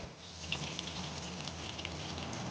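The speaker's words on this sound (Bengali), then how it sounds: "তেল গরম হতেই মাছগুলো ভাজতে দিয়ে দিয়েছি।" Pabda fish fry in hot oil, likely under a lid: a steady, soft, close sizzle with faint crackling spits, constant throughout with no talk.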